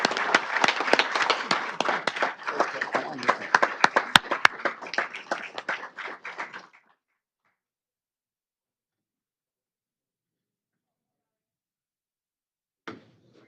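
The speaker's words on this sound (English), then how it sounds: "Let's give them a big round of applause." A crowd claps in steady applause for several seconds at a city council meeting, then it stops abruptly into silence, with a brief faint sound near the end.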